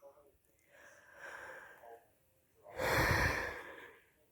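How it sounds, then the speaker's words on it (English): A person yawns: a soft drawn-out breath, then a louder, longer exhale-laden yawn with a gasp, close and quiet with no other sound. "You're yawning. You're yawning."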